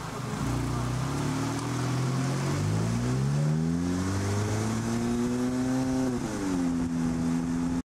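A car is driven with its engine heard from inside the cabin, a steady drone that climbs in pitch through the gears, then dips and settles, with road noise underneath and no talk.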